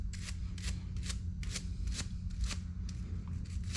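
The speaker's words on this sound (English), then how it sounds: "We're also going to clean all the Teflon tape off of this" Brushing old Teflon tape off a Harley Sportster transmission plug, a series of about nine evenly spaced scraping rasps, close and moderately loud over a low steady hum.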